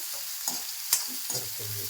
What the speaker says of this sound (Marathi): कांदा लालसर होईपर्यंत त्याला परतत राहायचं